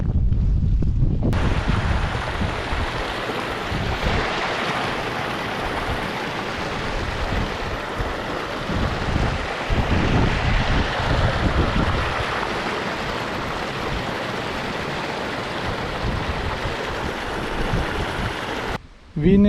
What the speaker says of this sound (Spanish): Ahora ya no es la nube que me persigue, ahora ya es el viento que me persigue.